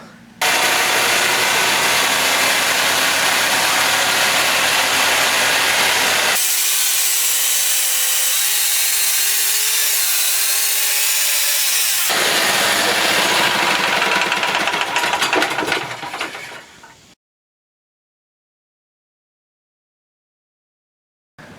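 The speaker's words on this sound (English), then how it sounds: "Let's get to the sawmill." A sawmill blade rips through spalted oak cants in a loud, steady roar that shifts pitch midway as the cut changes, runs for about seventeen seconds, then stops abruptly into silence.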